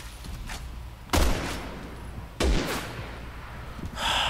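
Gunfire in the Resident Evil 6 video game: two heavy, booming shots about a second apart, each with a sharp onset and a ringing tail, over a steady game ambience.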